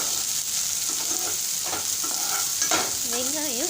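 Sliced onions sautéing in an oiled pan for pepper chicken, a continuous crackling sizzle broken by a few stirring scrapes of the spoon, close and alone.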